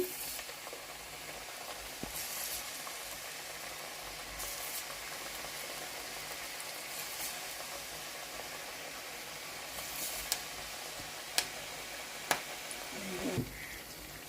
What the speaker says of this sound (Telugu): ఇవి వేగుతున్నాయండి.